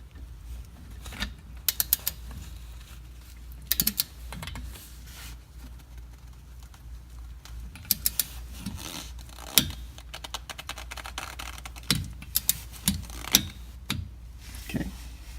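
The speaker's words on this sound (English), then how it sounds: "here's my torque bar." A torque bar ratchets while working on the rear axle of a 2014 Dodge Challenger RT: sharp metallic clicks come in short clustered bursts with pauses between them, close by and with no talking.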